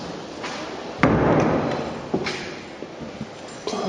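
A heavy door at Hampton Court Palace is opened with a loud thump and scrape, followed by softer knocks and shuffling in a reverberant interior.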